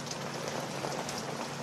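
Steady rain pours onto surfaces, a dense continuous patter of drops, close and even, with no voices.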